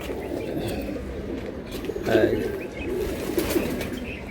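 Pigeons for sale coo in a loft, soft throaty burbling calls rising over a murmur of background noise, with a brief louder flurry midway.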